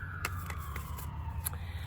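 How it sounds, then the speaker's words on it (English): Emergency vehicle siren out on a city street, a single tone gliding slowly downward at moderate distance, with steady traffic rumble and a few sharp clicks over it. "Sorry for the sirens there."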